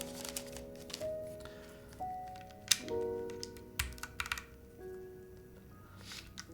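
Keystrokes on an SP-111 R2 mechanical keyboard, a fairly quiet run of separate taps with irregular pauses and a few louder clacks, with faint tonal background music underneath.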